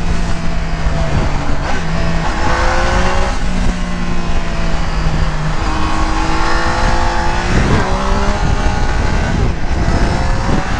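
A Triumph Tiger 800 motorcycle with a remapped engine roars loudly and continuously while riding, revving up and dropping as it shifts through gears, with steady wind rush underneath.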